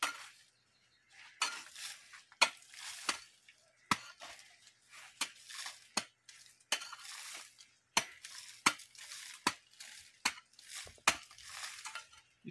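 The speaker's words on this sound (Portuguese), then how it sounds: "E vou cavar um buraco." Repeated sharp scraping strikes of a digging tool biting into soil beside a fruit tree, roughly a dozen close, loud chops in an uneven rhythm with short pauses between, no talking.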